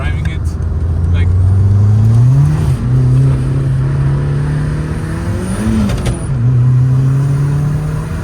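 A Saab 900 Turbo car is driven, its engine droning loud and close inside the cabin. The pitch rises as it accelerates, then drops and climbs again through gear changes.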